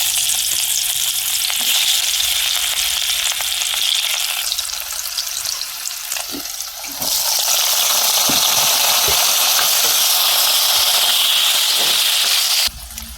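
Ground herb paste and potatoes fry in hot oil for an Assamese fish curry, a loud continuous sizzle with stirring scrapes, briefly softer midway before surging again, and no voices.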